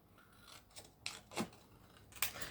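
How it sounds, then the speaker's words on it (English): Scissors cutting patterned paper up close, with several distinct crisp snips spaced irregularly over quiet moments of faint rustling. "So I'm just going to cut a piece of that."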